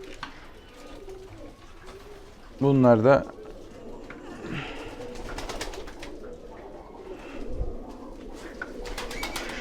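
Resting breeding pigeons coo softly in a brief burst, with scattered bird chirps around it while someone speaks quietly through the clip.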